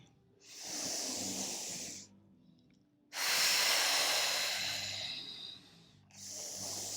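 Long, deep breaths during a Pilates roll down: a soft hissing inhale-exhale pattern in three broad waves, close and fairly quiet, with no talking.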